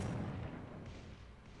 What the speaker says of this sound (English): when you have really good artillery, you sure do shoot fast